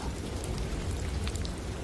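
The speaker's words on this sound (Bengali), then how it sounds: "চারিদিকে তখন ঝড় আর বৃষ্টি।" Cartoon storm effect of heavy rain and wind, a dense continuous rush of falling water with faint scattered patters, loud and unbroken throughout.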